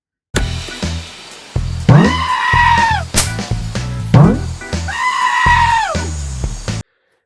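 A goat in the Screaming Goat game lets out two long, loud, wavering screams, each rising and then sagging in pitch, with clattering game noise and a brief rumble between them.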